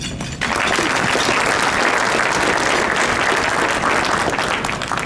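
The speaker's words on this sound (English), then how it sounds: "A round of applause, please." Dense, sustained applause from a large convention audience, starting abruptly after a brief pause and continuing at a steady, loud level.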